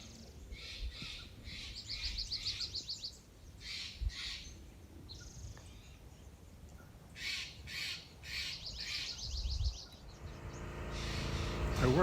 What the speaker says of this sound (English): listening to the birds and all the subtle sounds of the trees moving